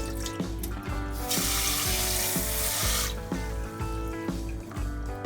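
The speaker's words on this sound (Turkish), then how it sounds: "pirincimizi yıkayacağız" Rice is rinsed under a running tap in a kitchen. A rushing gush of water lasts a couple of seconds beneath steady background music.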